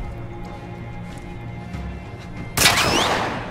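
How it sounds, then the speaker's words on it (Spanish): A single sharp gunshot from the video game The Last of Us Part II bursts out near the end, loud and close, with its echo trailing off over quiet in-game ambience. "Un disparo."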